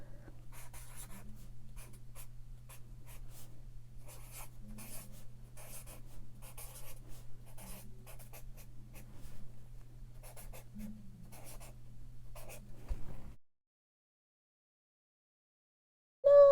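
Pen scratching steadily across bullet journal paper for about thirteen seconds, with a low constant hum underneath, then the writing stops and silence follows.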